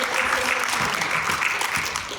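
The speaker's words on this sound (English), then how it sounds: "Round of applause." Applause from students at a school recognition assembly, a dense, continuous patter of many hands clapping at once, filling the room evenly.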